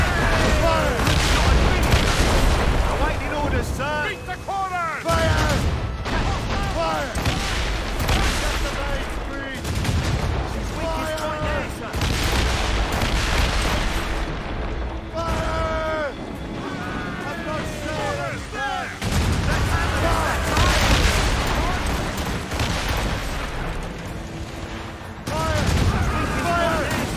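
Ship cannons boom repeatedly in a naval battle in Assassin's Creed Rogue, loud volleys and gunfire rolling across the whole stretch, mixed with shouted crew orders and sea-battle clamor.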